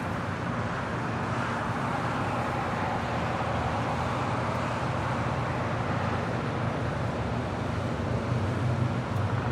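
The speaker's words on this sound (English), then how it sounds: "Another loud day with traffic down Imperial Highway" Road traffic on Imperial Highway near Los Angeles International Airport, a steady broadband roar of passing vehicles with a faint rumble, continuous and moderately distant.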